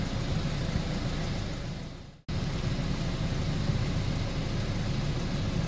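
A vehicle engine idling, fitted with a custom battery box and a Projecta IDC25 DC-DC charger, gives a steady, even, low hum that drops out for a split second and then resumes.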